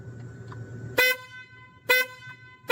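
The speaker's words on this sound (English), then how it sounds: "Oh, my horn." Toy car horn honks three times in a steady series, each blast loud, close and bright over a faint low background hum, with short pauses between honks.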